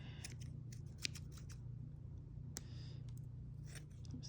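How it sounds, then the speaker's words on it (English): Dull scissors snip yarn ends on a woven sampler being cut off a loom, giving several soft, close crisp cuts over a low steady hum, with no talk. "Some dull scissors here."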